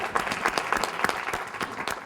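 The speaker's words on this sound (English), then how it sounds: "each and every one of you deserve a big round of applause for being here" An audience at an arts gathering applauds, a dense, fairly loud stretch of clapping with individual claps standing out.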